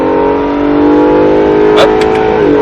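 Acura NSX at the SpeedVegas track accelerating hard back on the throttle, a loud close engine roar with rising tone, plus a brief higher-pitched sound near the end.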